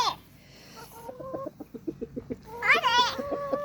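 A backyard chicken held by a child clucks in a quick run of short, rhythmic notes, then lets out a louder, squawking burst, close and clear.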